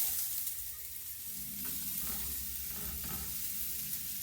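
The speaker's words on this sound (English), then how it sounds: "we're gonna work on throwing some of these onions in here." Onions go into a hot pan beside a beef roast, giving a steady sizzle with soft stirring scrapes, close and moderately loud, with no voices.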